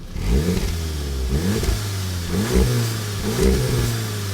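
A 2018 Volkswagen Golf R's 2-liter turbocharged four-cylinder engine revs repeatedly, four rising bursts of throttle over a steady idle, loud and close with no speech.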